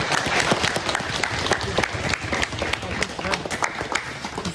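A group claps for a birthday in an MMA team's gym, a dense, close burst of steady applause lasting several seconds.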